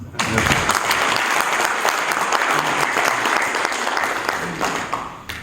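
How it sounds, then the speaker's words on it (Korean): Sustained audience applause fills a lecture hall at a breakfast lecture on Middle East business, dense and steady from start to finish, with no voices over it. "박수 한번 치시죠."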